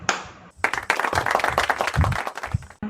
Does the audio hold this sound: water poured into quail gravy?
no